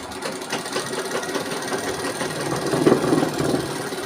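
Close and loud, a sewing machine stitching a wide piece of cloth runs in one continuous burst, a fast rattling clatter of the needle mechanism that swells slightly toward the end.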